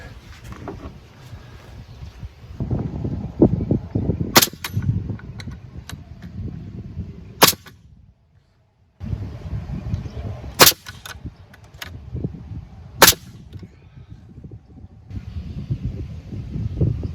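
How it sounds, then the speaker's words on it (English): A pneumatic nail gun drives nails into wooden shed framing, each shot a sharp, loud crack, about five spread irregularly over background hum and rustling work noise, with a short quiet gap midway. "with the nail gun"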